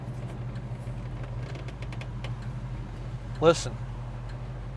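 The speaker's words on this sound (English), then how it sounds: "Hear how nicely it's idling? It's not stalling out. It's not sputtering, popping." A 1967 Chevrolet Chevelle SS with its numbers-matching motor idles smoothly, a low, even rumble without sputter or pops, heard quietly beneath someone speaking briefly.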